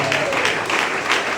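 A brief burst of congregational applause and cheering at the close of a church seminar prayer, steady and fairly loud with voices mixed into the clapping.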